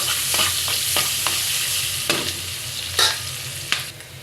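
Onion and bay leaf fry with spices in plenty of oil, a steady broadband sizzle under repeated scraping stirs from a spatula in the pan, close and fairly loud with no voices.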